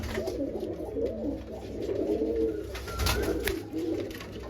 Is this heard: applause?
no